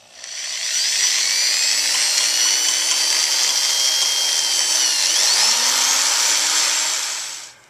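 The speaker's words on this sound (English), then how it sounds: "I broke my first drill bit, the smallest one." Small drill bit boring into a broken bolt, a loud, high whining power drill running continuously for about seven seconds with a brief dip in pitch near the end.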